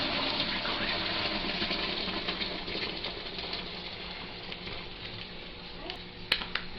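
Homemade pineapple wine is squeezed through a straining bag and drained into a bucket, making a steady close splashing, trickling pour that thins out toward the end with a few drips and soft knocks.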